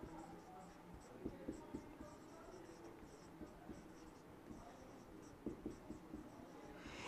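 Chalk or marker writing on a board during a classroom lesson, faint scratchy strokes coming in short bursts over a quiet room background.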